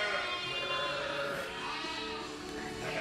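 Ewes bleating on a sheep farm, overlapping wavering calls from several animals close by, steady and fairly loud throughout a barn-like setting.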